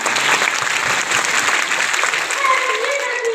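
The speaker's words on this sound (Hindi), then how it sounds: "अब पहले तालियां बजाइए" An audience at a school silver jubilee celebration applauds, a crowd of many hands clapping steadily and fairly loud, with faint voices mixed in toward the end.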